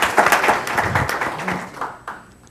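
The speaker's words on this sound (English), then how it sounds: "I'd offer a round of applause." A small audience at an expert panel gives a brief round of applause, close, quick claps that fade out within a couple of seconds.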